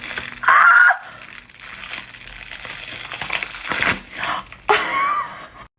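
Gelatin special effects makeup prosthetic being peeled off skin, with close crinkling, squelching and tearing bursts that come in uneven spurts with short pauses between them.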